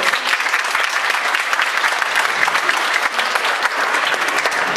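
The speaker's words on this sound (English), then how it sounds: "I think that deserves a round of applause." Steady, dense audience applause at a flood zone seminar hosted by the Bank of Cape Cod, continuous full clapping from a room of attendees with no talk over it.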